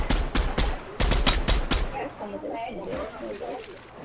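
Rapid bursts of gunfire crackle for the first couple of seconds, then a voice talks over softer game sounds.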